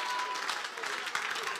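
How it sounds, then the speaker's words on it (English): Church congregation clapping their hands during prayer, a dense steady patter of many hands sustained throughout, with voices mixed in underneath. "Can you clap your hands and pray?"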